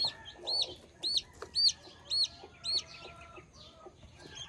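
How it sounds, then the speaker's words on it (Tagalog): A Rhode Island Red hen clucking close by in a run of about five sharp, evenly spaced clucks, with faint background noise and no talk. "Tara akong inahin guys oh. Rhode Island siya."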